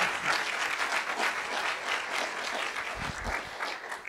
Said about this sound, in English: Give that strong applause.